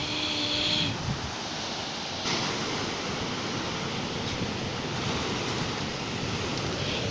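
Surf rolls and breaks steadily on the shore at Peh Pulo beach in Blitar, a continuous broad wash of surging water with wind, alone and without talk.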